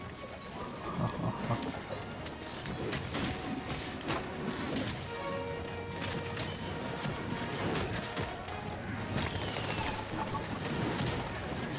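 Gunlance blasts in Monster Hunter World during a Diablos hunt, a dense mix of booming shots, thuds and monster roars layered over game music, fairly faint and continuous, with a voice briefly heard.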